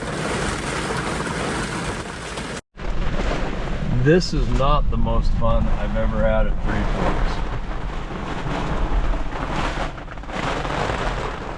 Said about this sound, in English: This is a thunderstorm to believe in.